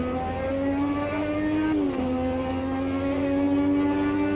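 A 1300-horsepower F1 car engine in a racing video game drones at a high, steady pitch as it accelerates, dipping briefly at a gear change and then climbing again, loud and continuous.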